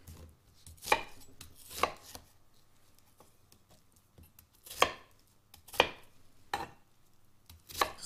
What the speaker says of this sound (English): Step one, just chop up our onion.